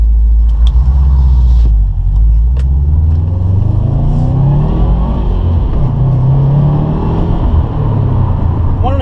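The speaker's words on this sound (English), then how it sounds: "the Invidia Q300 exhaust that I just bolted on the WRX last week" A Subaru WRX running a stage 1 tune, a stock airbox and 93 octane, fitted with an Invidia Q300 catback exhaust, revs up and rumbles loudly and close, with a steady throaty drone throughout.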